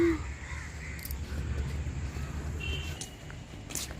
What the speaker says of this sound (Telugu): అగో కాకులు